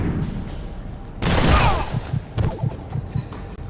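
Turn-based gunfire in Mutant Year Zero: Road to Eden: a sustained loud burst of shots and impacts lasting about half a second, followed by a series of spaced thumps, with no talk in the clip.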